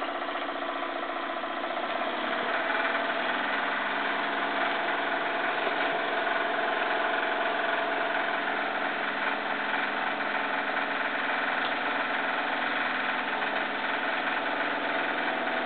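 Jensen 75 model steam engine running a hoist at a little over quarter throttle, a steady even mechanical whir and chug that continues without a break and builds slightly as it speeds up.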